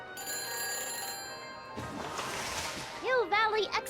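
Phone line ringing after a number is dialed in the Back to the Future adventure game, heard as steady tonal rings that stop before a short burst of voice-like sound.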